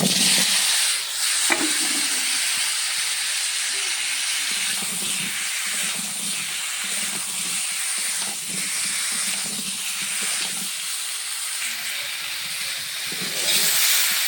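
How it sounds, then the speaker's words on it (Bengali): Potato and pointed gourd fry in the oil left from frying eggs, giving a steady, close hissing sizzle that runs for about fourteen seconds with soft stirring knocks and no talking. "এখন ডিম ভাজার তেলে আলু পটলটা ভেজে নেব।"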